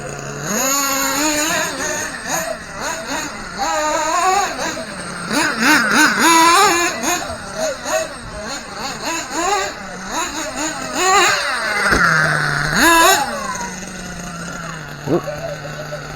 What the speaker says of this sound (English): I don't know what's worse today, my driving or the way this truck's running.